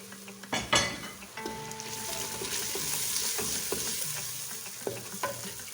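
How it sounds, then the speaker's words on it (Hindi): Turmeric powder and crushed red chili frying in a pan for mixed saag, a steady close sizzle with occasional stirring scrapes and utensil clinks throughout. "हल्दी पाउडर और लाल मिर्च को हमने इतना फ्राई करना है कि इसकी खुशबू आना शुरू हो जाए।"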